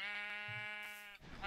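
A sheep in Minecraft gives a single drawn-out, nasal bleat with a wavering tone, close and clear, followed by a brief soft rustle.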